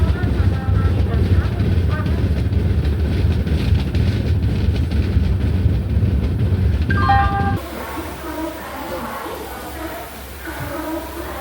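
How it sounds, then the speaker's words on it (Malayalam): Kanniyakumari Express pulling into platform 1 at Kollam station: a loud, steady rumble and rattle of rolling coaches, a brief metallic squeal near the end of the run, then a drop to quieter, rhythmic rolling. "കൊല്ലത്തിൻ്റെ പ്ലാറ്റ്ഫോം നമ്പർ 1-ലേക്കാണ് ട്രെയിൻ വരുന്നത്."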